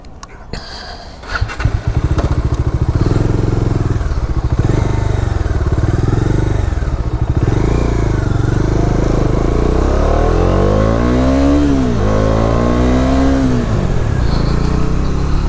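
A Bajaj Dominar 400 motorcycle rides along, its engine droning loud and close under heavy wind rumble, with pitch sweeps as it revs up and shifts through gears.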